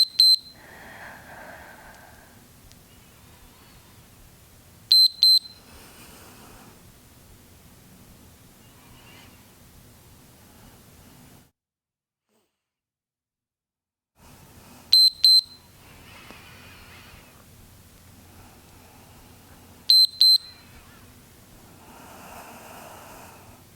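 An interval timer beeps during a back-pain stretching routine, sounding short clusters of sharp, high electronic beeps about every five seconds over a quiet, hissy room background, with a stretch of near silence between groups.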